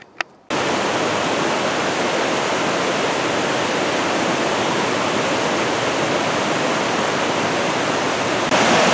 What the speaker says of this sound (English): This is where Talapus and Olallie creeks come together.